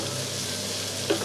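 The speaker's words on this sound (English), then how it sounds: "Make sure it's all spread around and it's all frying on the stove." Chicken goulash with cut baby potatoes frying in a pan on the stove, a steady close sizzle with a brief scrape of stirring near the end.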